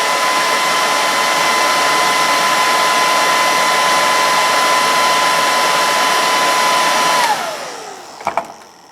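A handheld dryer blows on freshly painted eyes of a carved Native American bust, a loud steady whirring whine that runs for several seconds, then winds down when switched off, followed by a couple of faint knocks.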